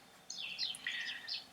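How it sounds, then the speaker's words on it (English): Birds chirping and chattering outdoors in a calm setting, several bright overlapping calls that come and go at a moderate distance, with no talking. "the birds chirping"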